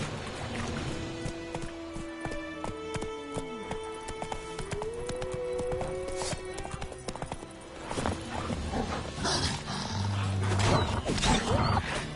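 Roach the horse in The Witcher 3 on PS5, with a continuous run of hoof clip-clops and a neigh, alongside game music tones and a roar-like burst near the end, loud and close.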